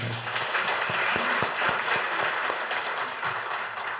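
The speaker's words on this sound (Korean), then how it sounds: "감동이 되셨으면 뜨겁게 다시 한번 박수 한번" A church congregation applauds after a Sunday morning service segment, a dense, even wash of clapping with scattered sharper claps, steady and moderately distant throughout.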